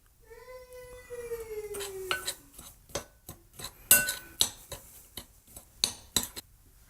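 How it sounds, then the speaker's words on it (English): A utensil stirs peanut pie ingredients in a dish, making irregular clinks and taps against the bowl while a faint whining tone sounds early on. "So you're going to stir that together."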